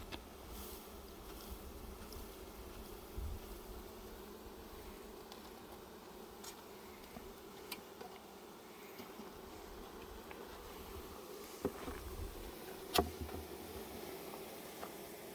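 A steady, faint hum of many bees buzzing fills the air continuously, with a few soft clicks and knocks nearby.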